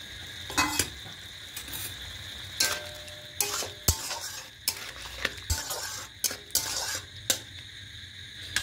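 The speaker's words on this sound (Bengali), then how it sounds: "এবার চিংড়ি মাছ ভাজাটাও দিয়ে দেবো।" Fried prawns stirred into a tamarind sour curry with pumpkin and brinjal, a spoon scraping the pan in repeated sharp strokes over a steady close sizzle, with occasional metallic clinks and no talk.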